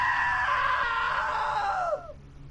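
A woman's long, high scream in the video game What Remains of Edith Finch rises loud and close, holds for nearly two seconds, then falls away and breaks off.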